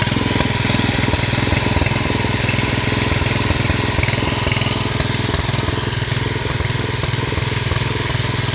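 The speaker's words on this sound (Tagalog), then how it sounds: "yan yung isa sa nalubog nating makina mga idol. Yan, napandar na rin natin." Flood-submerged engine running steadily after being restarted, a loud, continuous rattling chug with a rapid even firing rhythm, close up and unbroken throughout with no talking.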